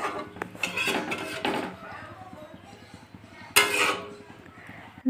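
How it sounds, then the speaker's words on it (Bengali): Food being stirred and mixed in a metal pot on a gas stove, with clinks and scrapes of a spoon against the pan, one sharper clatter near the end, moderately close. "সব কিছু একবার ভালো করে নেড়ে চেড়ে মিশিয়ে দিচ্ছি।"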